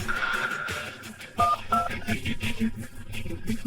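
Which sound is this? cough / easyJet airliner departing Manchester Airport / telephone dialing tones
telephone dialing tones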